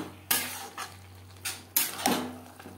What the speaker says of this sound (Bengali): বাঁধাকপির সাথে ঘি ও গরম মশলা বেশ ভালো করে মিক্স করে দেব